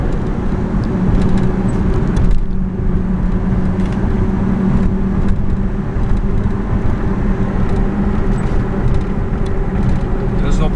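A 2004 Toyota Tacoma extended cab 4x4 pickup with a V6 and five-speed manual drives along. Its steady engine and road drone is loud and close, with a low hum throughout and a short dip near the start.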